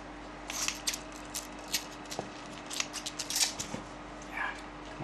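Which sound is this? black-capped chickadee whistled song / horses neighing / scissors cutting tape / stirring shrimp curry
scissors cutting tape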